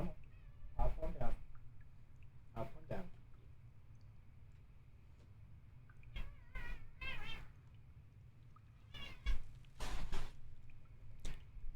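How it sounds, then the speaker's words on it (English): An unhappy house cat gives several drawn-out, wavering meows in scattered bursts close to the microphone, with a person speaking in between the cries. "That was a very unhappy cat."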